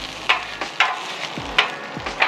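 Onions cook on a griddle with a steady low sizzle, broken by periodic sharp scraping or tapping strokes from a spatula. The sound is close and there is no talk.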